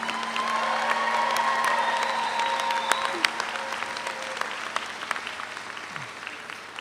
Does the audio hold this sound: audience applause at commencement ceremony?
yes